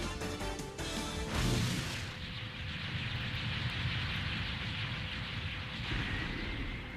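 A defeated boss in the video game Mega Man X4 blows up in a long, loud rumbling explosion with crackling debris and a sustained roar that lingers across the whole stretch, preceded by a brief burst of sharp game sounds.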